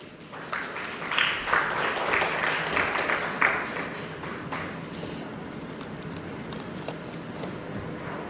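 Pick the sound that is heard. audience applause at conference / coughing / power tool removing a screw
audience applause at conference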